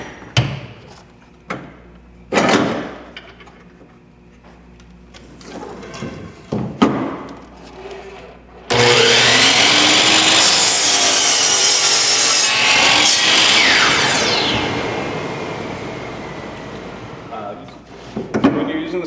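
A compound miter saw cutting wood: scattered clunks and handling knocks, with some background talk, give way to a loud sustained whine and rasp as the blade bites through the board, then taper off as it spins down.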